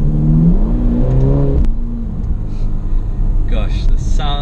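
A Ferrari Portofino's engine hums and rises in pitch briefly before easing off, then a gear change and a lighter, higher revving note follow, close up and fairly loud.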